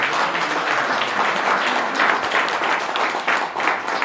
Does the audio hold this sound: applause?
yes